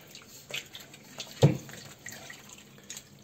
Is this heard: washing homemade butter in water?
yes